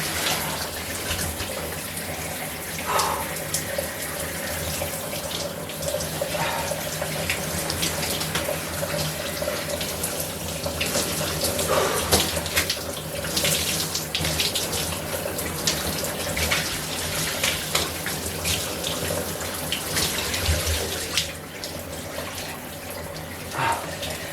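Hot water runs steadily from a shower or tap during hydrotherapy, a continuous close hiss and splash. It carries on without a break for over twenty seconds, shifting slightly as the flow hits the body.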